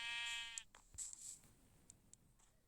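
A single Minecraft sheep bleat, short and wavering, then quiet with a few faint clicks.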